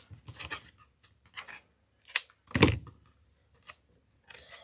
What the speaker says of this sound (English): And then you're going to trim your corners.